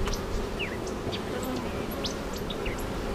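Honeybees hum steadily around an open hive, a dense close buzz with individual bees zipping past the ear, under faint background chatter.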